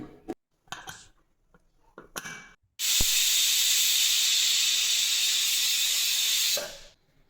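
After a few clinks of pots and utensils, a pressure cooker holding mutton with ginger-garlic paste, turmeric, cinnamon, cloves and salt lets out a loud, sustained hiss of steam lasting several seconds before it stops abruptly.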